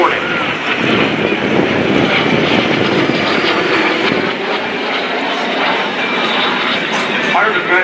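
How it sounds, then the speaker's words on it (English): Military jet aircraft, flown by a former F/A-18 Hornet pilot, at the NAS Oceana airshow, producing a loud, continuous broadband roar that fills the whole stretch with slight swells as it turns back around. "Head up high to your right, you see Burgess bringing the aircraft back around."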